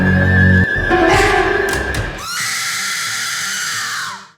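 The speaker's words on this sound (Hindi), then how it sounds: "चेहरा देखकर प्रिया के मुंह से चीख निकल गई" A woman's loud, piercing scream in a dramatized Hindi horror story, rising sharply over a thud and rumble, then trailing off in a long strained wail.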